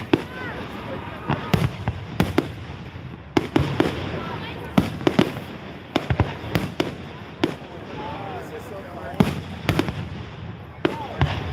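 A fair fireworks display in Milan, Michigan, with repeated sharp bangs and crackling bursts at irregular intervals, fairly close, while people talk and murmur in the crowd throughout.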